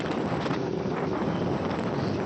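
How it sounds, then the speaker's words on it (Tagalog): Wind blows steadily through Tagaytay City, a loud, unbroken rush battering the microphone for the whole stretch with no voices. "Talagang nakaka-relax yung hangin dito sa Tagaytay."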